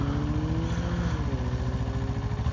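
500cc motorcycle engine running while riding in Calgary, Canada, a steady close, throbbing mid-pitched drone with a slight pitch shift partway, heard alone without talk.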